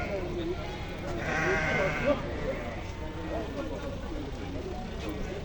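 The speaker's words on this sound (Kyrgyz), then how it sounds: "Так, мынакей арашаң козулар экен." Arashan breed lambs bleat repeatedly at close range, their wavering cries rising over a background of voices and farmyard noise.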